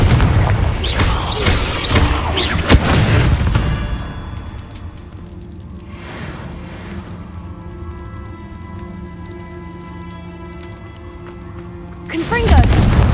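Repeated booming spell blasts from the Confringo curse in Hogwarts Legacy, loud dense bursts at the start, a quieter stretch of lingering rumble and ringing effects, then another heavy blast at the end.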